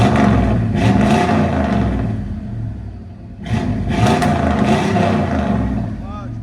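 A 1989 Chevy 1500 pickup's 5.7L V8 with a Flowmaster Super 10 exhaust revs up loud and close, dips briefly, then surges into a second strong rev, with voices talking over it.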